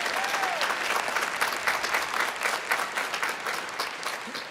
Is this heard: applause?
yes